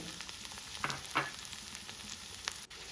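Chopped onions fry in oil for a telagapindi curry, a soft steady sizzle with a few brief stirring scrapes and crackles, close but quiet, no voices.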